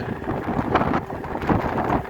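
Steady, moderately loud wind buffeting the microphone beside a lake at about 4,200 feet, below peaks rising another 4,000 feet, with rumbling gusts swelling and easing throughout.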